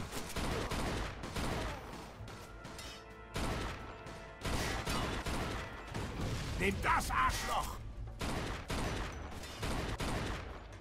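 Repeated volleys of gunfire in a Mafia 2 shootout, with loud clustered shots and crashes separated by short pauses and a voice briefly heard among them.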